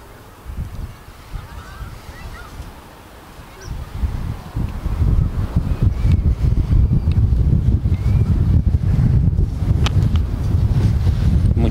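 Strong wind buffets the microphone in a mountain valley in a national park, giving loud, rumbling, irregular gusts that build in intensity after the first few seconds and keep roaring, with no voices.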